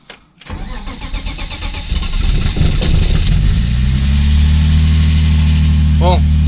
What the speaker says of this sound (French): à chaque fois que je démarre cette voiture, j'ai la pression